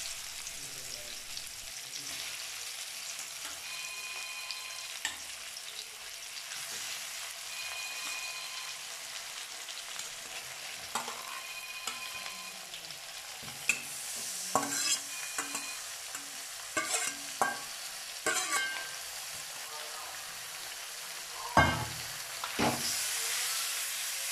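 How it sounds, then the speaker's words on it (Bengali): Marinated chicken hits hot oil in a kadai and fries with a steady, close sizzling hiss, broken by scattered crackles and spatters that grow busier toward the end, with occasional scraping stirs and no talking. "এবার আমি কড়াইতে তেল গরম করে নিয়েছি, তার মধ্যে মেখে রাখা মাংসটা দিয়ে দিচ্ছি।"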